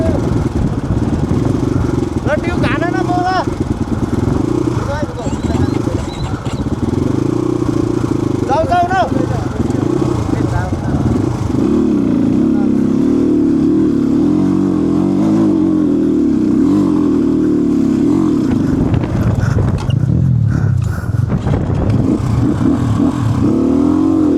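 A motorcycle labors uphill on a rough mountain road between Jomsom and Thorong La Pass, its mid-pitched engine droning steadily with occasional revs, close and continuous, while a rider talks over it.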